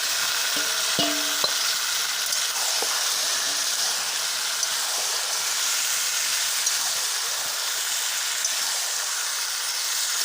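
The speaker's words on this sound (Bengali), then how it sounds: "মাংসটা ভালো করে কষে নিন।" Chicken pieces sizzle steadily in oil in a wok with browned onions, a continuous loud frying hiss broken by a few clinks of a spatula stirring the meat early on.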